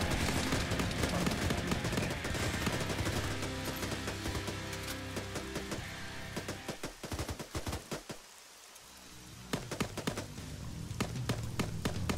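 Automatic gunfire in a video game firefight: dense, loud bursts of rapid shots that run almost the whole time, with a short lull partway through before the shooting resumes.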